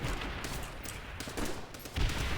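Rapid, continuous gunfire crackles in bursts, dense and somewhat muffled, like automatic weapons firing in Call of Duty: World at War during an airfield assault.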